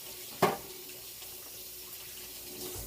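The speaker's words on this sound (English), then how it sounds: "So let me rinse my hands off." Water running from a tap for rinsing hands, a faint steady stream, opening with a brief louder splash and then flowing softly and evenly, no talking.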